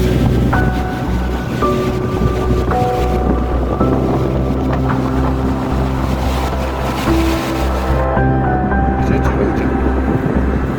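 Loud wind buffets the microphone in a constant heavy roar in Reykjavik, Iceland, during a red weather alert, with a low droning hum running underneath throughout.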